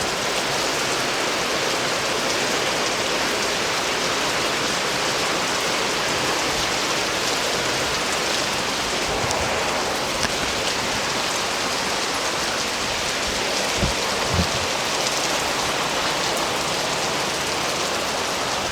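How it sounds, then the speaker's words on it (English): Steady rain splattering outdoors, a dense continuous hiss of drops striking surfaces, close and fairly loud throughout with a couple of heavier thuds near the end. "now all of the people walking by can't hear me because of the rain"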